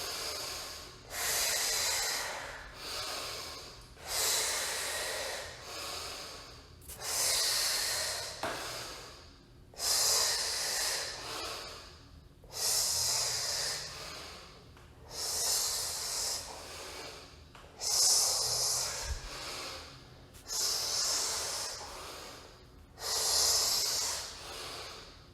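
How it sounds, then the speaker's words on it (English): Fast, deep breathing paced by a meditation and movement exercise: about a dozen forceful, hissing breaths in a steady rhythm, each a loud close rush of air, with no talking. "Faster, deeper breaths."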